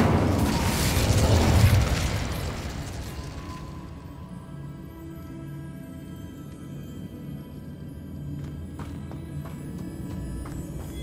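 A fire spell blast in the video game Hogwarts Legacy, a loud burst with a roaring whoosh in the first two seconds that fades into a low rumbling tail and quiet ambient game sound.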